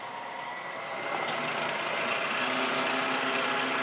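A milling machine spindle runs steadily and spins up to a higher speed while machining a replacement lathe center shaft, giving a broad continuous whir that grows louder, with no talk over it.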